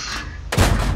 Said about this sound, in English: he's shooting the APCRs